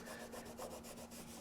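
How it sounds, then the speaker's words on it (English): Wet rag rubbed back and forth over a textured drywall wall during wet sanding, a steady soft scrubbing with rhythmic strokes, close and continuous, alone with no talk. "By just using this wet rag, I'm blending all of these uneven areas and these high edges right into the old texture."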